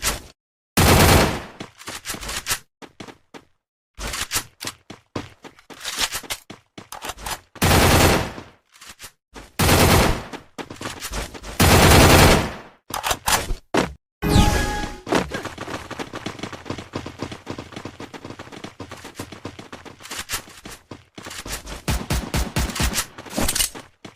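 Gunfire in the mobile shooter Free Fire played on a Google Pixel 9 Pro XL, with loud bursts of automatic fire and single shots broken by short pauses, some quieter rapid fire later.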